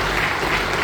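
Audience applause for a professor and ma'am at a talk, steady continuous clapping from a crowd filling the whole moment without a break.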